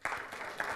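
Brief burst of audience applause at a 2006 NebraskaCERT conference opening keynote, a short spatter of clapping in a hall lasting under a second.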